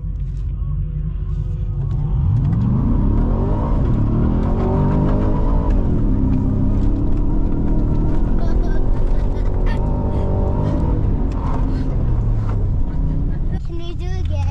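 A 2024 Ford F-150 Raptor R accelerates across sand dunes in a drag race, its engine a steady loud rumble with rising revs held close throughout, with voices talking over it.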